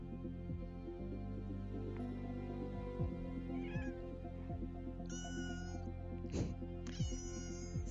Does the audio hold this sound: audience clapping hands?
no